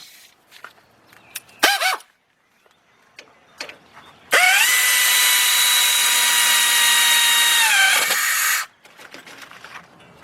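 A power tool tightens brake caliper bracket bolts on a 2003 Lincoln Navigator during a front rotor job: one loud, sustained whirring burst of about four seconds, with scattered clinks and handling noises before and after.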